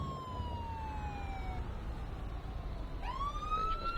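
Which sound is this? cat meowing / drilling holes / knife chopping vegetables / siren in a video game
siren in a video game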